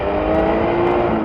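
A 1979 Porsche 935 K3 race car at Laguna Seca gives out a loud, steady, close-up engine drone with a constant pitch through a short burst.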